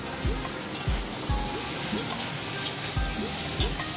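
Spices hit a hot frying pan in a home kitchen, giving a steady sizzling hiss broken by several soft, low knocks and scrapes from stirring at a fairly regular pace.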